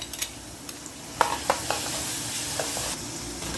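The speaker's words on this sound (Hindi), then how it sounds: "इनको अच्छी तरह फ्राई करना है ताकि जिंजर गार्लिक का खुशबू जो है वो आ जाए अच्छी तरह।" Ginger garlic paste frying in a pan over a medium flame, a steady soft sizzle with light scraping stirs and a few small utensil clicks, no talking.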